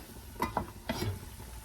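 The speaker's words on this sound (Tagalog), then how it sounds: "O, ayan, kumukulo na siya." Faint bubbling and soft popping come from a simmering pot of tamarind fish soup, with a few light clinks over a low, steady hiss.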